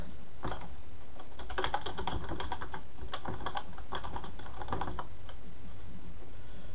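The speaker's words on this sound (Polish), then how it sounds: "tutaj wpisujemy nasze hasło." Keys on a computer keyboard are pressed in quick irregular clusters, close and moderately loud, with brief gaps between bursts of typing.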